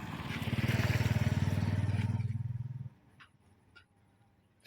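A motorcycle passes close by, its rough engine loud and steady for a few seconds before quickly fading, leaving faint background noise and a few light knocks.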